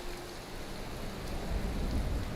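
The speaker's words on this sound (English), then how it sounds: "And it's raining horribly." Heavy rain pours down in the video game Skyrim, a steady broadband hiss that swells slightly louder toward the end, with no talking over it.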